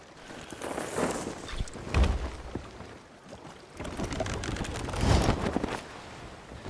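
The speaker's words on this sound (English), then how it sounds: "So I'm gonna head up here to lower the sails and then angle them as well" Ship sails are lowered in the video game Sea of Thieves, with two swelling bursts of rope creak and canvas rustle rising and falling a few seconds apart over a soft windy sea ambience.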